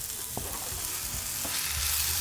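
Chopped tomatoes fry in a pan for tamarind rice, a steady bright sizzle broken by a few soft scraping stirs, close and continuous with no talk.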